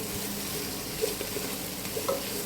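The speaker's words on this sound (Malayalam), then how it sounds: "ഈ ഉള്ളി നല്ലോണം വാടേണ്ട ആവശ്യമില്ല, ജസ്റ്റ് ഒന്ന് ലൈറ്റ് ബ്രൗൺ കളർ ആവണ വരെ ഒന്ന് ഫ്രൈ ചെയ്ത് എടുത്താൽ മതി." Onions frying in a pan until light brown produce a dense, continuous crackling sizzle, with a couple of soft utensil clicks over the close, even hiss.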